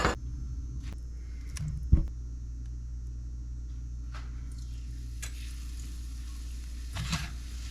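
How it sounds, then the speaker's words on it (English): Battered fish fillets frying in hot grease at about 360 degrees, a soft, steady sizzle with occasional sharper pops and crackles, quiet and close, with no talk. "We're going to pat the fillets dry and then dip them and then drop them in the grease"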